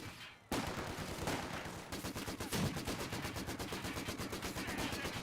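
Rapid gunfire and mortar blasts from a Company of Heroes 2 battle rattle on continuously, a dense stream of repeated shots with heavier thuds mixed in, loud and close throughout.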